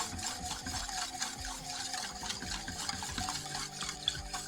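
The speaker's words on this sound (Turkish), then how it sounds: "şimdi bunu da yine karıştıra karıştıra top olmasın nişastalar içinde" A spoon stirs a starch and sugar mixture for lokum in a pot with soft, repeated scraping and swishing strokes at a gentle rhythm, quiet and close, with no voices.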